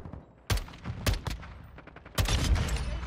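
Gunfire in Call of Duty MW2: loud broadband shots burst out in clusters, a single crack, a brief volley, then a sustained dense barrage near the end, with no talking.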